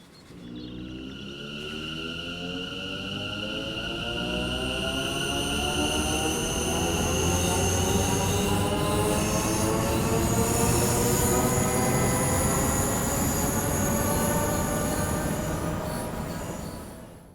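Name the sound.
electric train motor whine, video game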